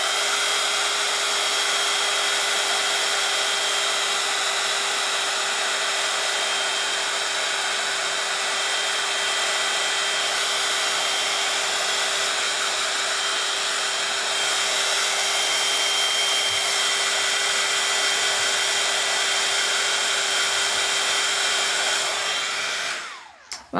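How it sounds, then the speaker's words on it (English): Heat gun blowing a steady, loud, even whoosh with a faint high whine, drying gilding glue on found items for a Christmas craft; runs continuously for about 23 seconds, then cuts off at the end. "or you can use the heat gun."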